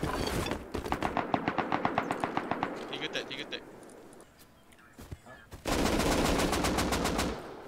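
Bursts of automatic gunfire in the video game Rust, rapid evenly spaced shots in two long volleys with a short pause between, loud and close, with players talking over it.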